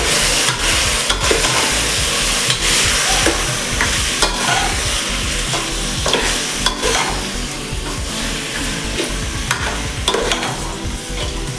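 Chicken sizzles steadily in a hot pan with salt added while a spatula scrapes and clatters through it in repeated irregular strokes.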